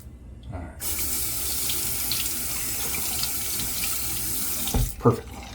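Tap water gushes steadily into a sink while soap is rinsed off fingers, a close, hissing splash that starts abruptly, runs for about four seconds, then cuts off with a few handling clunks.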